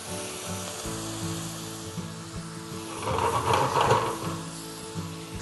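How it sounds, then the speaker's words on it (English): Morels and ramps frying with white wine in a pan, a soft steady sizzle that swells louder for a moment midway, with low kitchen hum underneath. "Now that the morels and the ramps are cooking away, we've got the wine in there"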